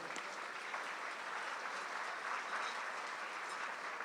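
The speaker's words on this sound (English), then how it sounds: "Let's give everyone a hand clap for the sponsorships and support." A luncheon audience at a mayor's business event claps for sponsors and supporters, an even, continuous roomful of applause at moderate volume from start to finish, with no talk over it.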